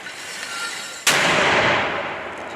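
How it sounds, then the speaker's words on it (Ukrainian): A single heavy artillery blast fired at the front line cracks out of low background noise, followed by a long, decaying rumble. "Давай постріл."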